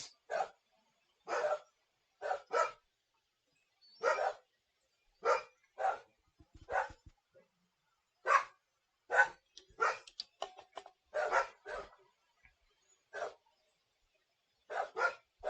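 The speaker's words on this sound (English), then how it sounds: "Please excuse the dogs." Dogs bark repeatedly from a neighboring yard, sharp separate woofs in irregular bursts over about fifteen seconds, moderately loud with short quiet gaps and one cluster of rapid overlapping barks.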